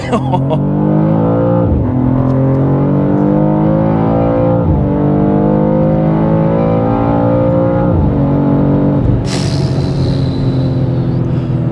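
A BMW M2 with an inline-six engine pulls hard under acceleration, exhaust rising in pitch through several gears with brief dips at each shift, loud and close from inside the car, ending with a sharp high-pitched burst.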